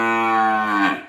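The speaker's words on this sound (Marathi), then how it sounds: "ह्यो पांढऱ्या रंगाचा ही जर्सी गाई आहे" A white Jersey cow moos once, a loud, close, drawn-out call with a falling tail, heard alone on a farm.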